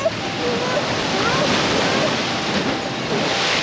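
Big ocean waves break on the shore at Dongara in extreme weather, making a loud, continuous roaring surf with heavy wind buffeting the microphone throughout.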